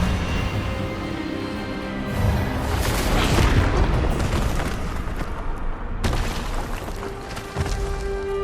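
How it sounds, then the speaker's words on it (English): An Expelliarmus spell cast in Hogwarts Legacy bursts out as a loud, booming magical blast, swelling into a roaring rush with a sharp cut and a second hit near the end, layered over a sustained musical drone. "Expelliarmus!"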